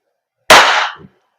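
A WE Glock 19 Gen 3 airsoft gas blowback pistol fires one shot over a chronograph, a single sharp close pop with a brief hiss and faint slide clack after, alone in silence.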